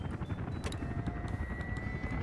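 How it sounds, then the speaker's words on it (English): A helicopter delivering prefab parts in the Workers & Resources city-building game, heard as a steady, muffled rotor thrum with a soft high whine, faint and unbroken over a couple of seconds. "Prefab's getting sent by helicopter."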